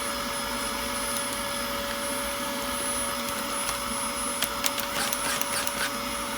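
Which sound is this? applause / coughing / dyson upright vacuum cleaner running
dyson upright vacuum cleaner running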